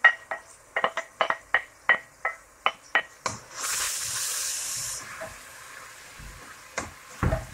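Vegetables tipped into a hot pan for a one-pot pasta dish, a run of sharp clattering knocks from utensil and pan followed by a loud, steady sizzling hiss that fades, then a couple more knocks.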